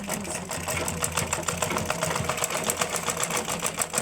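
A sewing machine runs steadily, stitching a straight seam along the zip edge of a cloth hand bag made from a single square of fabric, with a continuous rapid mechanical whir and needle chatter throughout.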